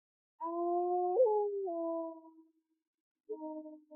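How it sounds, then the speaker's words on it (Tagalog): Forest dogs howling at night, two long wavering tonal howls, the first sustained for about two seconds and a shorter one following after a pause, fairly faint and distant with no other sounds around. "Mga aso ng gubat yan,"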